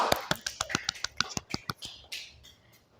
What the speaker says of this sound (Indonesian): Oke, tepuk tangan buat Rabiatul.